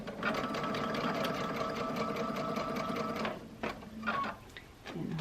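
A sewing machine stitches a seam toward the power panel of a glass-look bra, running steadily for about three seconds, then stopping and restarting in short bursts.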